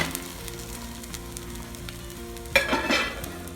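Potato egg omelette frying in a pan, a soft steady sizzle with a brief louder scraping burst near the end as it is flipped.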